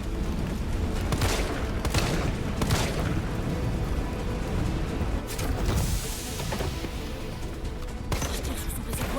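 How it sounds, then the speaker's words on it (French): Gunfire rattles against Nemesis's tank in the Resident Evil 3 video game, a dense, loud barrage of shots and booming blasts that continues with no letup. "Je tire sur son réservoir."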